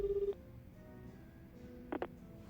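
Telephone dialing in the video game Like a Dragon: Infinite Wealth: a sustained tone cuts off, then a couple of short electronic keypad beeps follow over a quiet background hum.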